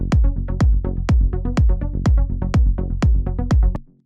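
Serum saw synth lead with its filter cutoff held mostly closed, a dark muffled tone struck in eight even rhythmic hits about every half second, loud and alone before fading out at the end.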